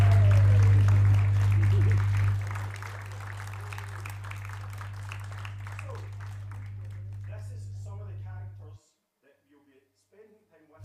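Audience applause and cheering at a church service, a broad wash of clapping and voices lasting about nine seconds, loud at first then settling, before cutting off into near silence with a low hum.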